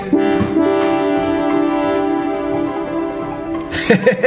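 A train sound effect plays in a small game jam game: a sustained, horn-like tone holds steady for several seconds over a rumbling bed, then cuts off into a brief clatter at the end.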